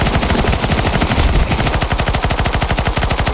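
Rapid automatic gunfire from Counter-Strike 2, a loud, steady stream of evenly spaced shots repeating quickly for several seconds with no voices over it.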